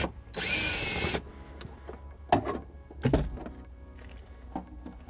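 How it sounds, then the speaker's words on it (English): A power drill whirs in one short, loud burst removing a screw on a 2014-2018 Subaru Forester during trailer wiring installation, followed by clicks and clunks of handling tools and parts nearby. "I'll get my drill to remove this screw here and that one there."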